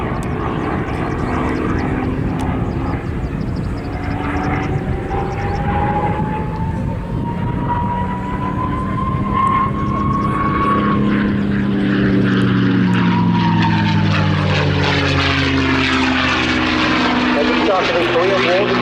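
A P-51D Mustang propeller fighter roars loudly through a flypast at an airshow, its engine drone sweeping steadily and shifting in pitch as it passes, continuous throughout.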